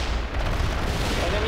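Gunfire and explosions in the video game World in Conflict: dense, overlapping bursts of shots and booms rumble continuously at close range, with faint game voices beneath.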